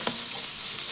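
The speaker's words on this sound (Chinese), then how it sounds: "加入蒜苗翻炒，火调大" Garlic sprouts hit hot oil with cumin seeds over high heat, giving a brief, steady, close hiss of stir-frying with no voices.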